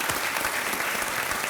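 A television quiz show studio audience claps in sustained, dense applause, steady and fairly loud throughout the short moment.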